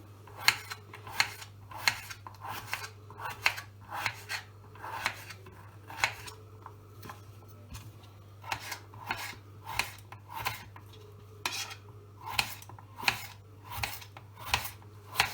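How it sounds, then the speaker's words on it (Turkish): Rhythmic knife strokes thinly slicing potatoes on a board, a steady run of crisp cuts over a low hum, no voices. "Bu şekilde ince bir şekilde doğruyoruz"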